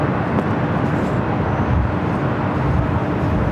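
A Boeing 747 jet airliner rolling along a taxiway at Los Angeles International Airport, giving a steady, loud broadband engine roar that holds level throughout with no breaks.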